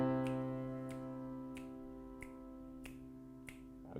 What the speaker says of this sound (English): continue to snap your fingers at the same speed